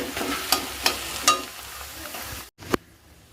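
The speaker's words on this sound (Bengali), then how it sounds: "চিনি দিয়ে আমি আবারও একটু নাড়াচাড়া করব" Coconut mathi with sugar being stirred in a pan, giving a steady soft sizzle with a few sharp scraping clinks of the spoon against the metal, followed by a brief pause and one last scrape.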